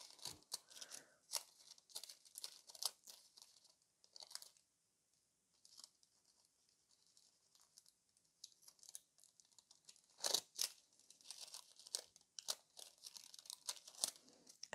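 Nail transfer foil peeled off a gel nail gives close, crinkly tearing rustles in uneven bursts, a quiet stretch in the middle, then more sharp crackling strips.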